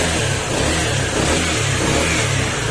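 A smoky Honda PCX160 scooter engine revs steadily and loudly up close, holding a sustained rev with slight rises and dips throughout, no voices over it.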